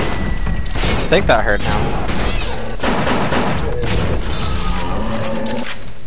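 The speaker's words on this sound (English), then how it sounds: "All right, shotgun time." Loud, close shotgun blasts and heavy impacts in the video game Bioshock, crowded together with other combat noise while someone talks over the action.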